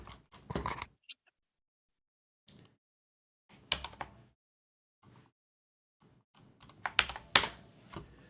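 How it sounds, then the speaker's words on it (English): Keystrokes on a Corsair mechanical keyboard come in scattered bursts of sharp clicks separated by quiet pauses, close to the microphone and with no voices. "It's a Corsair mechanical keyboard."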